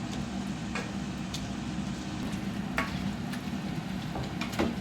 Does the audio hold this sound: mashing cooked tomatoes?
yes